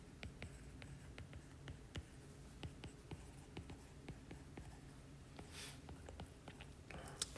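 A pen scratches across paper while working a calculus problem, faint, close strokes and small ticks spread steadily through a quiet room, with no voice.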